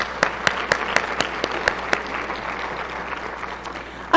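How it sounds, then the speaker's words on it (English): A room of people at an academic conference claps, a steady wash of applause with a few sharp individual claps standing out, fading slightly toward the end. "Please give them a round of applause for all the support they give us."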